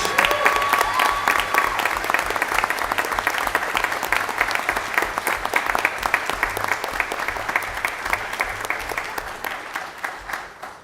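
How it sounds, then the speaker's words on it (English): A big round of applause from an audience at a board of education meeting honors academic seniors, loud and dense at first, then gradually thinning and tapering off toward the end. "please, another big round of applause for these exceptional academic seniors"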